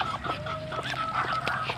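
Ducks and chickens mill about on a farm, giving short, close clucks and quacks in a quick, irregular patter over low background noise.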